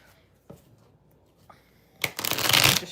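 Tarot cards being shuffled by hand, a few soft handling taps and then a loud, dense riffling burst of shuffling near the end, close up and without talk.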